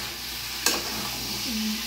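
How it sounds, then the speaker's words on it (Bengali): Mango pickle sizzles softly as it fries in a pan, with one quick scrape of a stirring spoon partway through, close and steady. "এই দেখো বন্ধু একটু ভাজছে"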